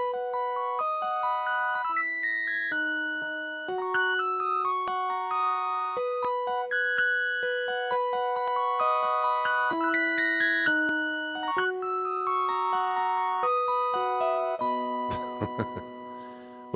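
High, bell-like electric piano notes play a bright, tinkling melody resembling a music box, steady and clear with no voices.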